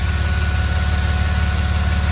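A car engine fitted with a new aluminium radiator and electric cooling fan idles steadily, a low rhythmic rumble with a constant fan whir layered over it, close and unbroken throughout.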